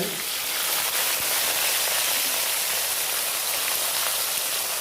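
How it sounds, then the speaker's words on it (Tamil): Steady, loud sizzling of green chillies frying in hot oil in a pan, a continuous crackling hiss with no pauses. "இப்போ வந்து இந்த பச்சை மிளகாவை இதில் சேர்த்துக்கலாம்"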